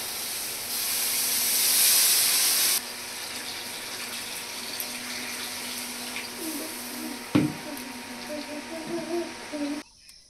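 Water is poured into a pan of cooked spice masala, a loud rushing splash lasting about two seconds that gives way to a steady bubbling sizzle with a clink or two.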